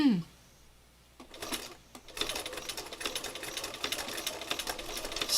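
A sewing machine on its slow stitch setting runs close and steady after a brief pause, its needle clattering in a fast even rhythm, with a short whirr at the start and a quiet voice nearby.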